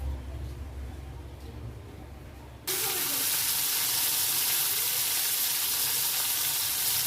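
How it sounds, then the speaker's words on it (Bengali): Fish dropped into hot oil in a wok, a sudden loud sizzle bursting in partway through and holding as a steady, close frying hiss after a quieter stretch of room noise. "এখানে আমি কড়াই মাছ দিয়ে দিয়েছি"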